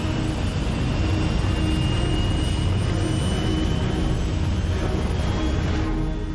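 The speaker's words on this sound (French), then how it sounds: "Enclenchement du pilote automatique. Procédure de décollage activée." Aircraft engines during takeoff in an animated series, a loud steady jet roar holding evenly throughout with no talking.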